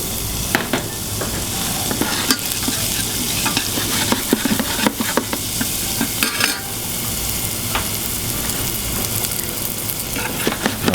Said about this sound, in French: Nous allons faire suer nos échalotes à blanc.